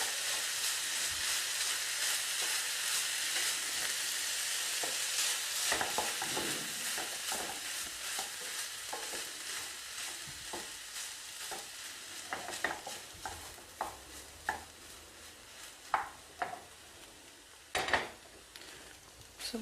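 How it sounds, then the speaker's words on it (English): Kedgeree with parsley being stirred in a pan, a soft continuous sizzle beneath scraping spoon strokes that turn into sharper, louder clicks and knocks toward the end. "Just give that a stir through just to warm it through"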